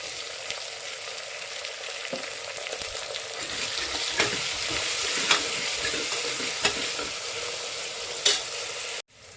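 Chopped tomatoes fry with onions in a pan for a cowpea gravy, sizzling steadily while a spoon stirs and scrapes with scattered clicks, up close until a short silence at the very end.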